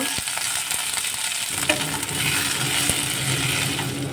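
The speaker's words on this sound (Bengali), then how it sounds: "একসঙ্গে ভেজে নেব।" Chira pulao ingredients, flattened rice with green peas and green chillies, frying together in a pan, giving a steady close sizzle with light stirring scrapes and a few clinks.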